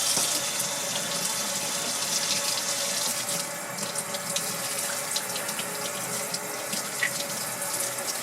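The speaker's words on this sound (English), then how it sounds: "Using warm water in my sprayer." Warm water sprays steadily from a sink sprayer, rinsing silver polish off a silver tray, a continuous close hiss of running water that lasts throughout with no talking.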